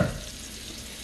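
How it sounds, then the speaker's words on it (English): Meat browning in a big hot iron skillet, giving a brief steady sizzle close by, opening with a soft thump and then holding an even hiss. "It ain't popping hot, but it's definitely sizzling hot."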